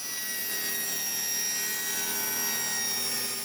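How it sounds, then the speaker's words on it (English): A table saw trimming a rough jigsaw-cut wooden piece, a steady high-pitched whine held loud and close throughout with no talk. "so I'll just clean that up with the table saw"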